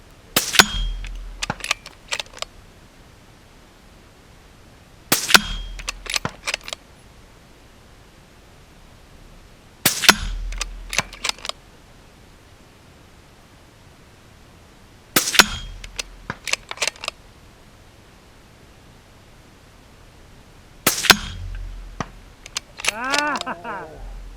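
Gunshots striking a steel spinner target at an outdoor range: five evenly spaced volleys of sharp cracks, each followed by quick metallic clangs and rattles as the spinner turns, loud against a steady hiss.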